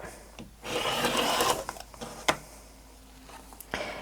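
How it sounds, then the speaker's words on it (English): A rotary cutter slices along a ruler through quilt fabric, making one close, rough rolling swish of about a second, followed by light taps and shuffling of fabric on the cutting mat. "Grab my rotary cutter and trim that up."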